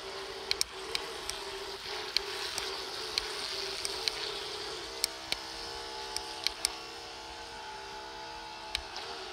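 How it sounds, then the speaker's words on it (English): A remote-control toy speedboat motor whines steadily on the water at a distance, with scattered sharp clicks and splashy ticks over a constant outdoor wash. "Yeah, I can tell the speedboat's getting pretty low on fuel too."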